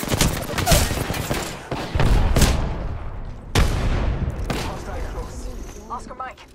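Rapid gunfire bursts in a first-person shooter battle royale game, Apex Legends, loud and close with several volleys and sharp cracks, followed by faint chirpy interface tones near the end.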